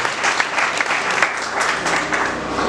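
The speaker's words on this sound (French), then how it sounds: "Applaudissez très fort, applaudissez très fort." An audience at an official launch event in Kasai Central claps loudly and continuously, a thick wash of many hands held at an even level from start to finish.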